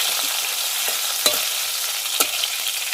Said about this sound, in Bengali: আর এই মাছটা আমার লাল লাল করে ভাজা হয়ে গেছে দেখো।